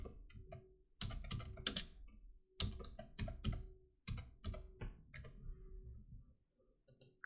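Keys clatter in quick clusters as someone types a short phrase on a computer keyboard, nearby and fairly quiet, with brief pauses between bursts of keystrokes.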